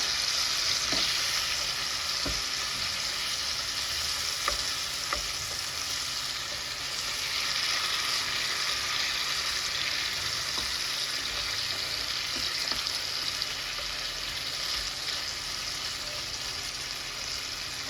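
Chicken masala frying on high flame gives a strong, continuous sizzle and hiss, with occasional scrapes and taps as a spoon stirs through it, close and unbroken with no voices.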